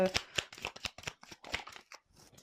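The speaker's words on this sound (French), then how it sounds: "je prends une dernière carte" Tarot cards being handled close up, with a rapid run of crisp flicks and riffles as one card is drawn from the deck, and light talking mixed in.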